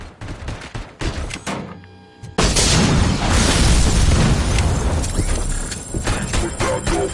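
An ED-209 robot attacking in a Robocop video game, giving scattered shots followed by a sustained loud barrage of gunfire and explosions that fills most of the stretch.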